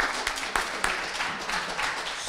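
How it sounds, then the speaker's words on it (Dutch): Studio audience at a children's TV fan day claps in a brief, fairly faint burst of applause, with a few sharp individual claps standing out from the steady patter. "Een enorm applaus voor jouw prachtige jurk."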